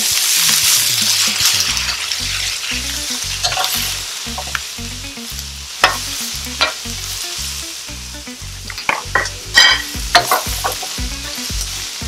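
Beef and vegetables sizzle steadily in a pot for a quick stir fry, with repeated scraping and clattering of a utensil stirring through the pan, close and fairly loud.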